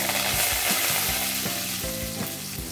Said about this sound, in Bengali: এখন আমি দিয়ে দেবো 2 শুকনো লঙ্কা, আর দেব জিরে আর রাই ফোড়ন। একটু ভালো করে তড়তড় আওয়াজ আসবে